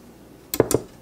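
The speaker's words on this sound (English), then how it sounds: "Get a whisk over here," A whisk scrapes and clatters twice against a bowl holding a dry brine mix for smoked salmon, two quick close strokes with short clinks, loud against a quiet room with no talking.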